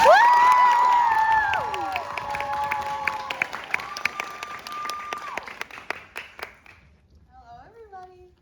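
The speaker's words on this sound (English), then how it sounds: "please give a warm, beautiful round of applause for Sophie" An audience applauds a reader at a back-to-school reading event, a dense burst of clapping that thins into scattered claps before fading out, with a voice and some music-like tones mixed in.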